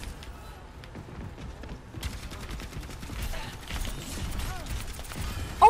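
Rapid weapon fire and ability effects crackle through a hectic Overwatch match, moderately loud with bursts growing busier, and excited players talking over the action.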